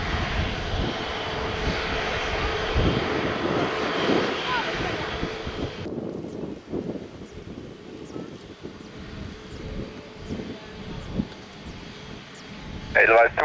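Loud, steady roar of Edelweiss Air Airbus A350-941 jet engines at Faro Airport, a broad rumble that drops sharply partway through to a lower, quieter drone, with wind noise and talk underneath.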